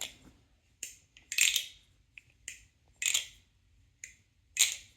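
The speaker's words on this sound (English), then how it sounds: "Let's go ahead and do a sound test." A Nabalis Teflon Vulp balisong butterfly knife is flipped, giving sharp metallic clacks and clicks in quick irregular bursts, close and crisp against near silence, with no talking.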